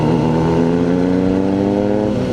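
A motorcycle engine revs hard and steadily, close and loud, with a dense harmonic drone that holds high throughout without pause.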